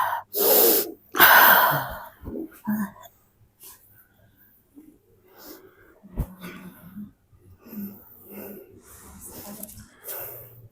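A person undergoing massage therapy for stomach pain radiating to the back and frequent coughing breathes hard in loud gasping inhales and exhales. A therapist speaks in short low phrases between the breaths.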